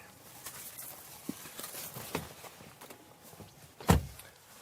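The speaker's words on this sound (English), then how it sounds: "Time to pull back one of the wide opening doors and take a seat in the rear." A car's wide-opening rear door is pulled open, giving one sharp clunk near the end of a quiet interior, with a couple of fainter handling knocks before it.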